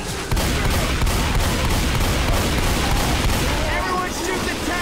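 Rapid, dense gunfire from several weapons aimed at a Tank in Left 4 Dead 2 rattles loudly and continuously in close range, a steady barrage of overlapping shots with shouting voices mixed in.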